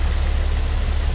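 A 2017 Toyota Yaris LE's small four-cylinder engine idles steadily up close, a constant low rumble with no variation in pitch or level.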